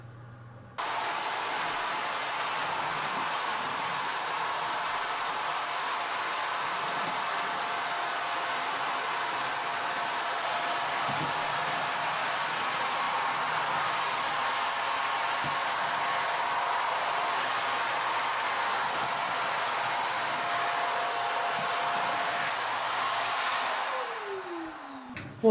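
A canister vacuum cleaner switches on and runs with a steady, loud rushing whine for about twenty seconds before spinning down at the end.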